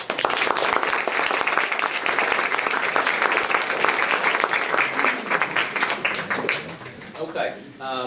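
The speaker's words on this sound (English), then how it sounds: "everybody deserves a round of applause for that" Audience applause at an athletics conference awards event, sustained crowd clapping that thins out near the end as a voice begins to speak.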